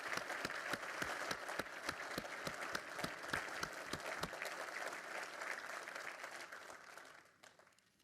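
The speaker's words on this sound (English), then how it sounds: "let's give you a round of applause" Audience applause at a company's annual shareholders meeting, a steady wash of clapping from a seated crowd that holds strong for several seconds before thinning and fading out toward the end.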